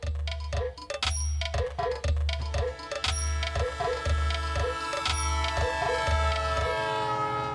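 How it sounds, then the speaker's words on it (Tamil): A passing train, loud and steady, with a rumbling low drone, rhythmic clickety-clack of wheels over the rail joints and high ringing tones, heard up close and alone. "ட்ரெயின் போயிடுச்சு"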